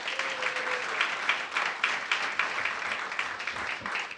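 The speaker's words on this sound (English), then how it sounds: "Let's give him a round of applause." An audience at a school board meeting applauds a teacher, an even, sustained patter of clapping from a roomful of people, heard fairly softly.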